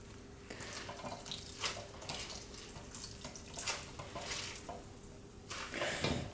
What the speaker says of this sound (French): je vais retirer un maximum d'eau pour avoir une cuisson bien croustillante